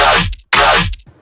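A second dubstep one-shot from a sample pack fires twice in quick succession, each a loud, full-range hit with a descending low growl and brief stuttering bright flickers trailing off.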